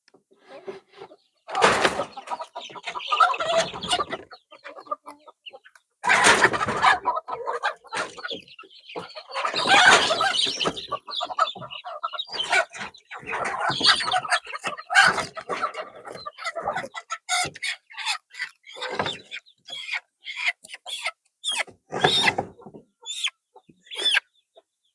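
Desi hens being given Ranikhet vaccine cluck and squawk in loud, nearby bursts, with agitated calls coming and going amid handling noise and occasional voices.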